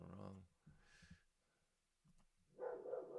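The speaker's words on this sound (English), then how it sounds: "Please ignore the dog." A dog barks in the background of an indoor talk, with loud bursts of barking at the start and again near the end and a quieter stretch between.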